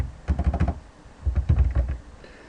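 Bursts of computer keyboard typing while writing Java code, two quick clusters of close key clacks separated by a short pause, with no talking.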